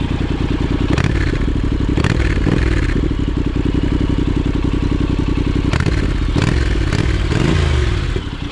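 Honda NC750X motorcycle with an aftermarket exhaust, idling loudly with a steady throbbing rumble and several sharp blips of the throttle, recorded close with no talk.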